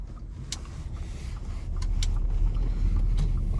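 A 2018 Audi A4 B9 pulls away in comfort mode, a low, muted engine and road rumble that swells as it gets moving, with light cabin clicks and faint wind noise.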